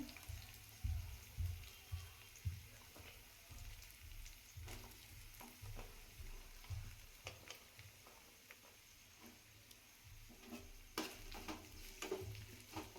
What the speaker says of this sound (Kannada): ಈಗ ಕ್ಯಾರೆಟು ಮತ್ತು ಕ್ಯಾಪ್ಸಿಕಮ್ನ ಹಾಕ್ತಾ ಇದ್ದೀನಿ.